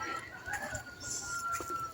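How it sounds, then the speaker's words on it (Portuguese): Free-range chickens roaming behind a house cluck and chatter in a busy outdoor scene, fairly close and mixed with other bird calls and background noise. "Eu resolvi deixar as galinhas soltas aqui"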